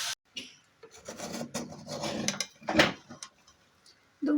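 A spoon scrapes and rasps against a pot while rice, fried moong dal and winter vegetables are stirred together for vegetarian bhog khichuri; close, uneven strokes repeat in short bursts with brief pauses and one louder scrape near the end.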